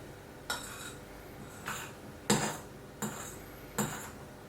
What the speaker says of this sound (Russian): аккуратно добавляем пену нашу с вами белковую к тесту и замешиваем